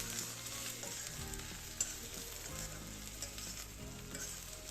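Okra and onions stir-frying in a pan over a full high gas flame, a constant sizzle with stirring scrapes and clatter running throughout.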